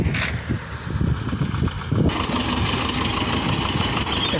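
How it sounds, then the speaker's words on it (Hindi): A Swraj 724 tractor engine drives a reaper binder cutting wheat in a field, running as a steady mid-to-low rumble that grows brighter and louder about halfway through, with no talk over it. "छोटा ट्रैक्टर बड़ा काम। स्वराज 724 है।"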